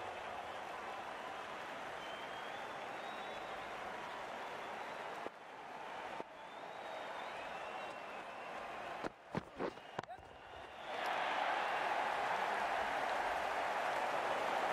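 A cricket match crowd applauds and cheers, a steady wash of clapping and noise that briefly drops, is broken by a few sharp knocks, then surges louder and more excited near the end, with commentary faintly underneath.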